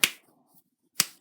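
Two crisp, loud pops of knuckles cracking, roughly a second apart, each a sharp snap out of a quiet room with brief faint movement between them.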